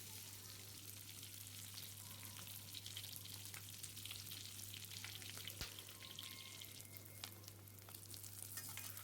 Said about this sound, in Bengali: এভাবে আমি উল্টে উল্টে প্রত্যেকটা সাইড ভালো করে ভেজে নেব।